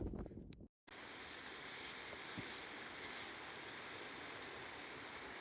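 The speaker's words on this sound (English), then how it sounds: "Just a beautiful waterfall right below the top of the Chilnualna Falls Trail." Waterfall just below the top of the Chilnualna Falls Trail in Wawona, Yosemite, a steady broadband roar of rushing water, constant and fairly distant, after a brief gust of wind and a short dropout at the start.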